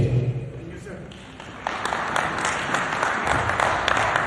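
An audience at an investment summit applauds, a steady wash of clapping that grows fuller midway, with a voice speaking over it.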